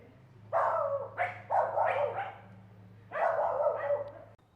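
A dog barks and yips in clustered bursts, three close calls, a pause, then one more, moderately loud against a low steady hum.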